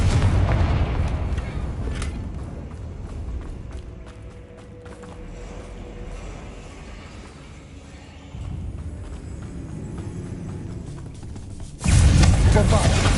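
Confringo spell blasts and explosions in Hogwarts Legacy: a run of booming impacts and rumbling bursts over a low background, ending in a loud, dense blast near the close.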